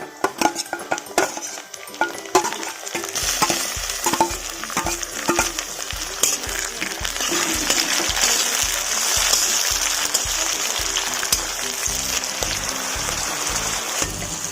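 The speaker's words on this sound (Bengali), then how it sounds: "পেঁয়াজটাকে ভেজে নেব। পেঁয়াজটা ভেজে নিয়েছি" Onion fries in a pan for a rohu fish curry, a close, continuous sizzle with rhythmic stirring scrapes and light clinks of a utensil against the pan, no talking.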